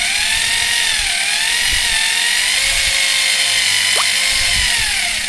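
A Foster electric drill runs steadily with its trigger locked on, a continuous loud motor whine that holds an even pitch for several seconds with faint handling knocks beneath it.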